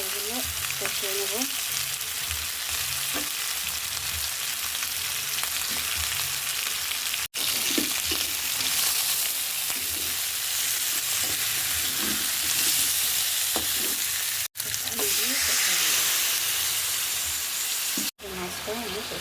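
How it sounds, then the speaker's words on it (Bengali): Rohu fish frying with masala in a pan for a curry with aubergine, a steady close sizzle with faint stirring scrapes running throughout and a few brief breaks. "মাছটা আমি কষিয়ে নিচ্ছি পানি দিয়ে, মশলা সহ হয়ে গেছে"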